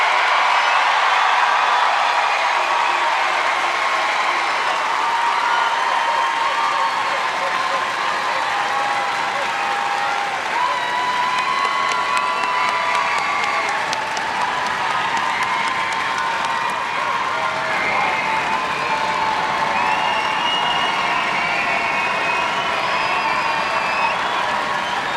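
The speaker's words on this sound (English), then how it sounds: "So one more chance to give you a round of applause for the class of 2025." Sustained applause and cheering from a large crowd honor the graduating class of 2025 at the Penfield High School commencement in New York, a dense steady roar of clapping with scattered whoops that continues unbroken for the full stretch.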